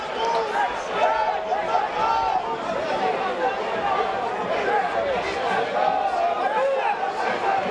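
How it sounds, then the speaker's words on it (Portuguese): Football fans in a stadium at a 2024 Campeonato Alagoano semifinal chant in a steady, massed roar of voices that carries on without a break, loud and continuous with broad crowd noise. "É grito de torcida."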